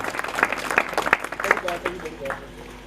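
An audience at an Eid gathering claps in a short burst of scattered applause, individual claps audible and fading out, with voices talking underneath.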